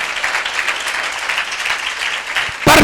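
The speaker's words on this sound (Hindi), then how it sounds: "विश्वास करते जो लोग ताली बजाकर प्रभु को धन्यवाद करें।" A church congregation claps during a Hindi sermon, a dense, steady wash of applause with a sharper, louder burst near the end.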